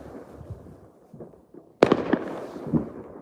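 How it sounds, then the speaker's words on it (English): New Year's Eve fireworks go off outdoors, heard from a balcony, with scattered distant pops and crackles building to a sudden loud bang and a cluster of sharp bursts echoing afterward. "there's quite a few fireworks going off."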